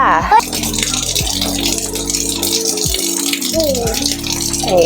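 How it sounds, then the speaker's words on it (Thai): Tap water gushes steadily into a washing machine drum to rinse it during cleaning, with a loud, continuous splash and rattle, and a voice comes through faintly underneath. "เสร็จแล้วเดี๋ยวเราก็เปิดน้ำล้างเลยค่ะ"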